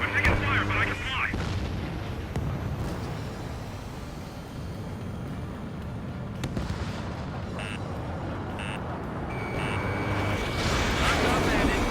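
Ace Combat 7 aerial combat with gunfire striking an aircraft: a brief cluster of rapid impacts near the start, then a dense roaring rumble of jet and battle noise with a few short electronic beeps later on.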